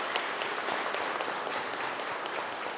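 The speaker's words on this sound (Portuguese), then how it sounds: "Vamos dar uma salva de palmas para o Ismael." Applause from a church congregation during Mass, a dense, steady wash of many hands clapping throughout, with no talk over it.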